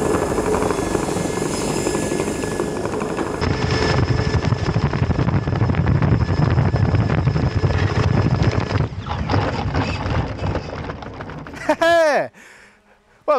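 A large RC Magnus-effect aircraft flies with a steady, loud motor and rotor drone under wind buffeting on the microphone, swelling midway before it cuts out abruptly near the end, followed by a few quick whooshing sweeps.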